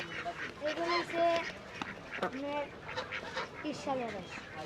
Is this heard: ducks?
yes